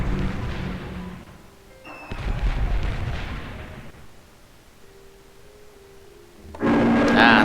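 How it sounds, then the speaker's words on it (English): Bombing explosions in Civilization III, set in a World War II scenario: low rumbling booms and thuds rolling in bursts over several seconds, with a louder, harsher burst at the end. "They are bombing us"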